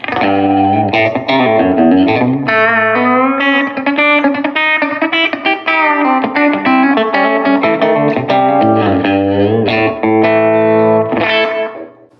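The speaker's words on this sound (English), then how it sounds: "this is what it sounds like with a little bit of slapback delay on it" Electric guitar through a '62 Princeton amp, Chris Stapleton Edition, with slapback delay, a loud, slightly driven run of chords and licks played continuously with quick echoing repeats.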